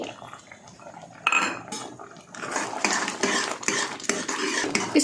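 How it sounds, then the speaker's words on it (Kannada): Metal spoon scrapes and clinks in a pressure cooker while dal, sambar powder, salt and grated coconut are mixed for a cluster bean curry, followed by the lid clanking shut; close, busy rattling with no talk. "ಮಿಕ್ಸ್ ಮಾಡಿ ಕುಕ್ಕರ್ ಕ್ಲೋಸ್ ಮಾಡ್ತಾ ಇದ್ದೀನಿ"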